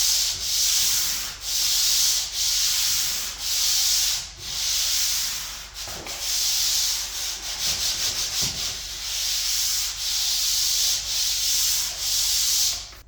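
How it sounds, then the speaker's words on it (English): A power sander works along drywall corner bead in a steady series of rhythmic gritty rubbing strokes, each about a second long, loud and close with brief pauses between passes. "turn my sander sideways, you can see, and just go through the whole thing"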